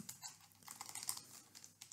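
Quick, close keystrokes clatter on a computer keyboard while code is entered, a rapid irregular burst of light clicks with no talk.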